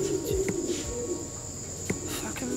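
A racing pigeon gives soft low coos amid steady background chirping that sounds like insects, with a few faint knocks, all at a moderate level.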